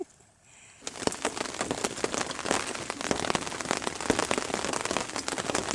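Heavy rain at Trout Lake starts after a quiet first second, then drums steadily and loudly on nearby surfaces with dense, crackling drop impacts and no talk.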